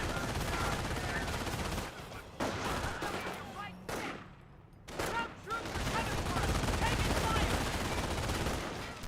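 An MG42 machine gun fires in a Company of Heroes battle, dense rattling gunfire running almost continuously with a brief lull in the middle, mixed with other battlefield firing and a voice talking over it.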